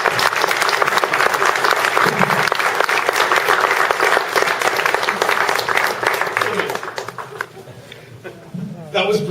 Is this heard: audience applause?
yes